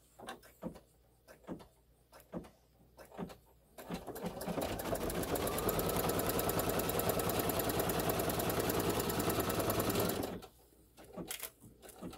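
A sewing machine stitches a quilt block in one steady continuous run of several seconds, loud and close, with brief handling taps and clicks before and after it.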